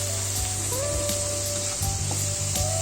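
Taro and tomato curry with spices being stirred in a pan, a continuous loud sizzle with scraping stir strokes and a steady tonal hum running underneath, no talking.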